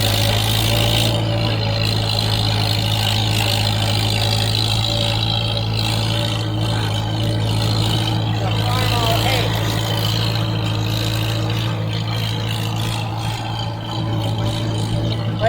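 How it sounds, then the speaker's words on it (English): A farm tractor engine runs at a steady idle-like rumble, close and continuous, with a person talking over it for much of the time. "Don't you just love the sound of this tractor?"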